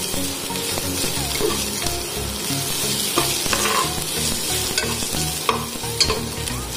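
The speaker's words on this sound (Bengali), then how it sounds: "আদা রসুনটা আমরা অ্যাড করে দিচ্ছি একসাথে। এটাকে এক দুই মিনিটের মতো একটু ফ্রাই করতে হবে" Ginger and garlic fry in a pan for a chicken stew, a continuous loud sizzle with rhythmic stirring scrapes and occasional clinks of the spoon against the metal.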